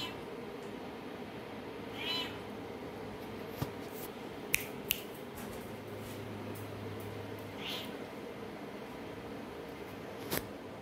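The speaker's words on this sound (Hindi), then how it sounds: "ये बिल्ली दीदी के दोस्त की है हमारे, डेजी है इसका नाम" A cat meows a few times indoors, the cries short and fairly faint over a low steady background hum, with a couple of sharp little clicks in between.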